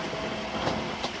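A Northern Class 185 diesel unit, 185 120 and 134 working together, rumbles through York station with a broad steady roar and faint wheel noise, close and continuous for a brief moment.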